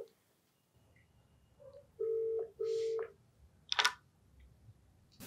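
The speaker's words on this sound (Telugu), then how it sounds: "నెంబర్ ఉంది, కాల్ చేసేస్తానండి" A telephone during an outgoing call gives two steady electronic beeps, each about half a second long, followed by a short crackly burst. The tones are clear and close over a quiet background, with no talking.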